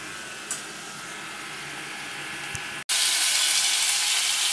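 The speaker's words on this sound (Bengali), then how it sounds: "এবার আস্তে আস্তে একটু জল হলুদ নুন লঙ্কার গুঁড়ো জিরের গুঁড়ো দিয়ে কষানো হচ্ছে।" Turmeric, salt, chilli powder, cumin powder and a splash of water sizzle in a pan for coconut prawn malaikari, a steady close hiss that suddenly grows louder and brighter partway through.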